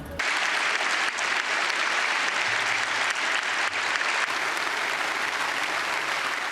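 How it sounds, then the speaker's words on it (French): Dense, sustained standing ovation from a large audience in the European Parliament chamber, loud and continuous throughout without a break. "il a été applaudi par tous les rangs de l'hémicycle. Standing ovation."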